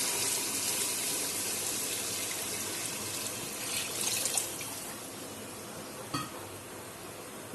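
Water pours steadily over beef trotters in a pressure cooker, a soft continuous splashing stream that thins out near the end, with a brief clink just before it stops.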